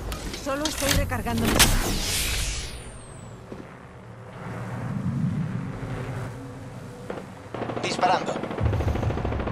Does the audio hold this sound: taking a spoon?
no